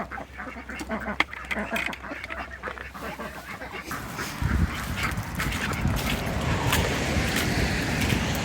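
Ducks quack and honk at their feeder on a rainy Pacific Northwest farm, scattered calls growing busier and louder, with rustling and movement close by.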